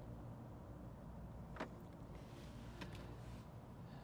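Steady low road rumble and hum fill the interior of a car driving from Manhattan to Brooklyn, broken by a couple of brief faint clicks or knocks.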